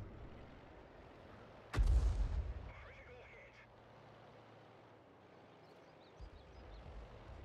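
A tank's main gun fires in World of Tanks, a single loud booming blast with a rumbling decay over steady background game noise.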